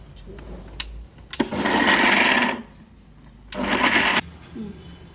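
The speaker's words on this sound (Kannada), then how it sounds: "ಇಷ್ಟೆಲ್ಲ ಹಾಕ್ಕೊಂಡು ಇವಾಗ ಗ್ರೈಂಡ್" A kitchen mixer grinder blending ivy gourd chutney runs in two short bursts, a loud, close, high whirring roar of about a second each, separated by a quiet pause.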